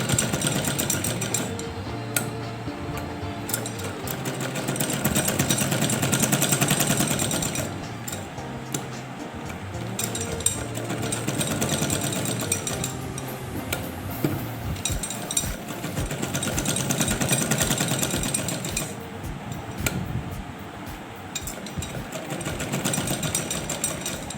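A sewing machine runs straight stitches in long bursts of rapid, even mechanical whirring, pausing briefly between runs, loud and close with no talk.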